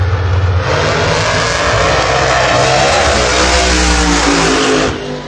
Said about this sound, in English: Two nitrous cars going down.